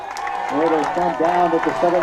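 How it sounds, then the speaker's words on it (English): A Blue Jay college football crowd at Langhorse Field cheers, a sustained roar beneath an announcer's voice. "And this Blue Jay crowd on its feet here at Langhorse Field"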